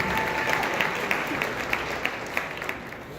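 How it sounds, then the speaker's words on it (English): A comedy show audience claps for the mothers in the room, a thick, sustained burst of many hands with a few sharper claps popping out, no talking over it. "please give a round of applause to all the mothers"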